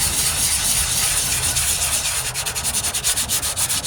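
Bondo body filler being sanded by hand on a rusted 1998 Ford Ranger tailgate with coarse sandpaper, a continuous dry rasping hiss that turns into quick rhythmic back-and-forth strokes toward the end, close and loud.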